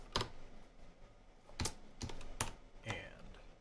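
Keys on a computer keyboard are struck in sparse, separate clusters of sharp clicks spread over a few seconds, quiet and close, with no speech over them.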